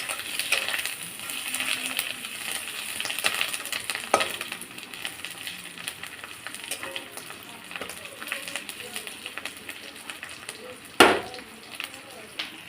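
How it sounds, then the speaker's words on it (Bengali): Fish fries in oil with chilli powder, a steady close sizzle with occasional stirring scrapes and a sharp metallic clink near the end, while a voice talks faintly in the background. "এইভাবে মাছটা আমি ভেজে নামিয়ে নিয়েছি।"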